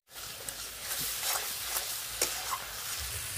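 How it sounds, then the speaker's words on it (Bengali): Chili powder, turmeric, salt and mixed spices stir-fried in a pan for a tuna fish curry, giving a steady close sizzle with faint scraping of stirring throughout. "লঙ্কার গুঁড়ো, হলুদ গুঁড়ো, লবণ, সব কিছু মশলা আর একটু ভালো করে কষে নেব"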